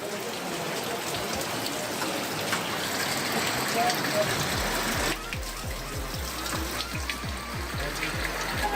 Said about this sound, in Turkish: Oo, kaynak suyu.